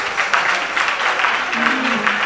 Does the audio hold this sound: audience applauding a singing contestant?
yes